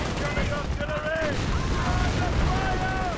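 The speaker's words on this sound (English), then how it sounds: "Grenadiers engaging with the LMG 42" Battle din from Company of Heroes with LMG 42 machine gun fire among dense rumbling gunfire and explosions, a continuous loud clatter with whistling tones, while someone talks over it.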